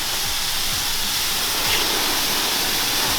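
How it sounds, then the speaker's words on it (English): A pressure washer sprays a plain-water rinse over a car, making a constant loud, broadband hiss of spraying water that stays even from start to finish. "So this is just straight up water with the pressure washer."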